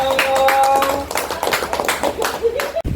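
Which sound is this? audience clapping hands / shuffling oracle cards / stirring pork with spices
audience clapping hands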